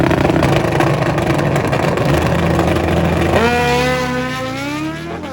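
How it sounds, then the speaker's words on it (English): An old Suzuki GSX-R 1100 and a Buell motorcycle at a drag race, engines roaring loudly at full throttle, then rising and falling in pitch as they shift and pull away, with no talking. "He'll be taking on the Buell of Osborne."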